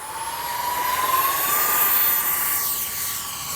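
A radio-controlled X-Fly SU-57 V2 jet plane on its maiden flight, carrying a 2600 4S battery, makes a steady, loud whining rush as it flies straight and level, with a high tone gliding slightly upward.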